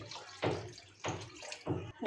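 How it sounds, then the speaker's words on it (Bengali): Broth is poured into a cooking pot of sour chalta (elephant apple) curry in three short splashing pours, close and moderately loud, with no talking. "আমি এখানে আরেকটু ঝোল দিয়ে দেব।"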